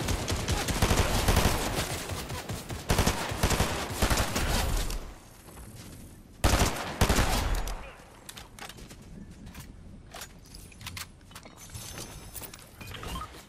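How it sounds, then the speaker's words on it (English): Dense bursts of rapid gunfire and machine-gun fire in a shooter game, loud and continuous at first, then sparser scattered shots after a sudden lull. "I did just get shot at, by the way."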